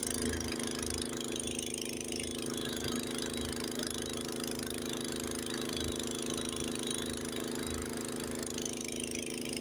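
An old Honda snowblower engine runs steadily during a Lake Tahoe snowstorm, a constant mid-pitched droning hum with a faint rattle, moderately close, unbroken for the whole stretch.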